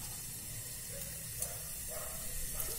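Bay leaf and cinnamon stick dropped into hot oil give a soft, steady sizzling hiss, fairly quiet and close, with a few faint clinks and no speech.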